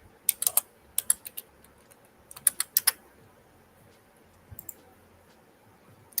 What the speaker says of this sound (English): I can type, I swear.